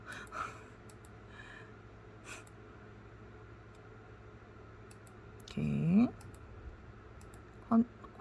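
A few isolated soft computer mouse button clicks sound sparsely against a quiet room, with a brief burst of voice in the middle.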